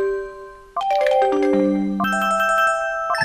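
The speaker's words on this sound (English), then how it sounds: "I'm actually gonna change the ringtone on that, because I don't really like that. Alert tone." A phone alert ringtone in the Pokemon Colosseum video game plays a short, bright melody of stepped electronic chime notes, first descending and then rising, clear and close with no talking.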